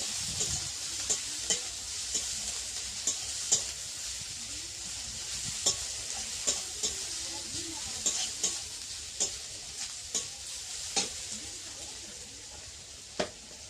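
Onions frying in a pan with a soft, even sizzle, punctuated by regular sharp taps and scrapes of a spatula stirring them, fairly quiet throughout.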